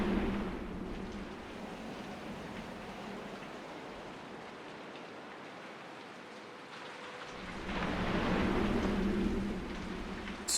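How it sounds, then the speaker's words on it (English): Steady rain in the video game Sinking Island pours down in a constant hiss, swelling louder toward the end, with no voices. "Let's get out of the rain."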